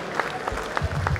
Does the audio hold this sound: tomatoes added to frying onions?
no